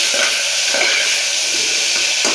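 Onion and tomato sizzle in hot oil in a pan, giving a steady close hiss with faint stirring scrapes now and then, and no talk over it.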